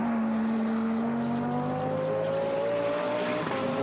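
A Lamborghini Gallardo GT1 race car at the Nürburgring passes with a loud, sustained engine note whose pitch rises steadily as it accelerates, with no talk over it.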